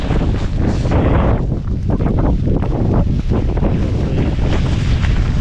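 Strong storm wind in freezing cold near Moab, roaring and buffeting the microphone in continuous loud gusts, with no voices heard.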